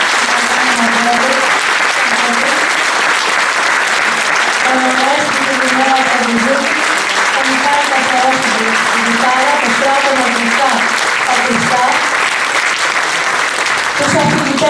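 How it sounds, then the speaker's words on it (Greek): Audience applause fills the room for the musicians who accompanied a Greek music event, steady dense clapping throughout with voices faintly mixed in. "Ένα χειροκρότημα στους μουσικούς μας."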